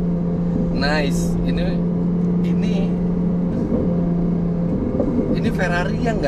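Ferrari 296 GTB hybrid V6, 830 hp, revving on a Jakarta street, a steady engine drone with rising and falling rev sweeps under continuous close talk.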